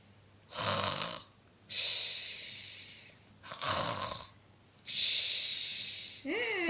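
A storybook bear snoring in slow, regular cycles of rasping, snorting breaths with brief quiet pauses between them, close and fairly soft, likely a voice imitating the snore.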